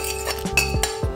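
Chopped onion and carrots go into a pot of chicken broth with a quick series of close metallic clinks and knocks of a utensil against the pot, no talking.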